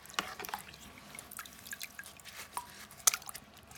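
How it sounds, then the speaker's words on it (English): Fish tank filter rinsed under running water, with scattered splashes and drips over a faint trickle, one brighter splash near the end. "this is your filter. This is what's filtering your fish's water."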